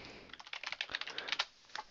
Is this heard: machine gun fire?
no